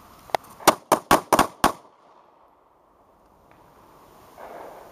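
Pistol shots ring out at a target during a defensive combat shooting drill: six loud, sharp reports in a quick irregular string, followed by near silence and faint background noise.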